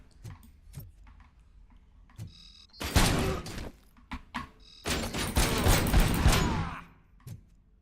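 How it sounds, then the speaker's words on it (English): A wall of gunfire in the video game RoboCop: Rogue City: two dense, loud stretches of rapid shots, separated by scattered single clicks and thuds. "Nice little wall of bullets they got there."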